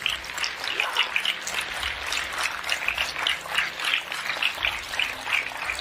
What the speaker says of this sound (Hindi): तो हो जाए एक जोरदार तालियां आपके सेहत के नाम पे।